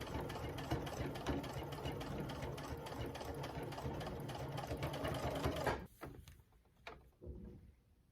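A home sewing machine stitches fabric in a fast, even mechanical chatter close by, then stops abruptly, leaving a few clunks of handling and a short final burst.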